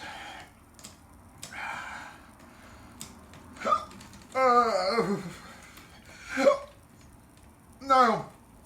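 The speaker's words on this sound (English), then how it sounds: "Oh, hiccups. Oh, I got hiccups." Someone hiccups after eating an extremely hot chip, with several sharp, voiced hiccup bursts spaced a second or two apart, close and fairly loud against a quiet room.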